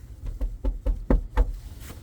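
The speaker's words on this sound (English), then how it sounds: "So we're going to knock on the door." Six firm knocks land on the front door of a home, sharp and close, with short uneven gaps between them and no talking.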